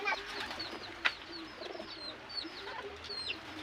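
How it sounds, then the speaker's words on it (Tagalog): Pigeons cooing softly nearby amid scattered chirps and clucks from other birds, a busy outdoor coop atmosphere. "Nakakapaglipad na sila ng maayos yung mga kalapati natin."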